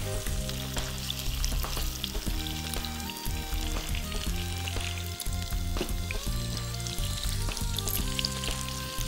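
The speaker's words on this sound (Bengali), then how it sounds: "এটা হালকা করে ভেজে নিতে হবে" Cubes of paneer fry in hot oil for chili paneer, sizzling steadily and loudly up close, with occasional stirring clatter and no voices.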